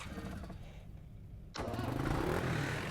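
A car engine starts in the video game REPO: a quiet rattling idle, then a sharp catch as the motor fires and settles into a louder, steady rumbling drone.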